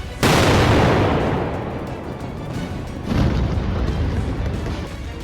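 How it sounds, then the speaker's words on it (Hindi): Airstrike explosions hit Syrian cities: two heavy booms a few seconds apart, each followed by a long, rolling, rumbling decay with no talk over it. "पहले ही मलबे के ढेर में तब्दील हो चुके सीरिया के शहर धमाकों की आवाज से दहल रहे हैं"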